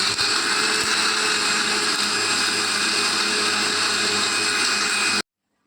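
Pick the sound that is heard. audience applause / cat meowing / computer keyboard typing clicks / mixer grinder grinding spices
mixer grinder grinding spices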